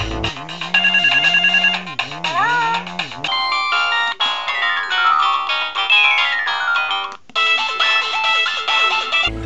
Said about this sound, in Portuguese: era sensacional você ter um celular que tinha toques polifônicos